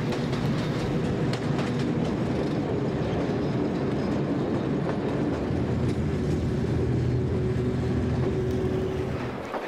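Taieri Gorge Railway train running through a gorge, a steady, loud rolling rumble of wheels on rails with clattering carriages, continuous throughout and no talking.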